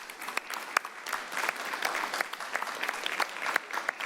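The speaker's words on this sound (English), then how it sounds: "Let's give them a big round of applause for all they've done." City council meeting audience breaks into applause for a group being honoured, a sustained crackle of many clapping hands in a room at moderate distance.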